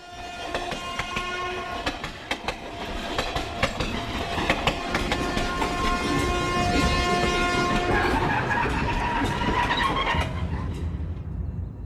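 A train rumbles along the rails with rhythmic clattering and squealing wheels, its horn tones sustained above the steady mechanical roar.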